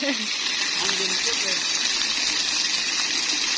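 Water gushing out of a cave at a new tourist spot in Loei, Thailand, a loud, steady broadband rush filling the whole clip, with a few faint voices underneath.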